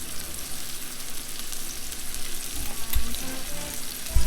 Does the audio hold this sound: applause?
no